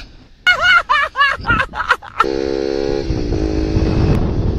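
A person talks briefly, then a Bajaj Pulsar NS200 motorcycle with its exhaust dB killer removed starts up loud and close, running with a raw, unmuffled drone that holds steady to the end.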